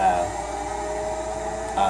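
Steady grinding whir from a car's tires in the Forza racing game, continuous and fairly loud for two seconds, swelling slightly at the start and end over a constant engine drone.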